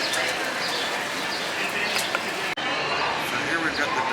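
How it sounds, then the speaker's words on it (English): Pigeons coo softly amid a busy background of chatter and ambient noise, with faint bird chirps mixed in, along the daytime San Antonio River Walk in Texas. "So that's the pigeons there."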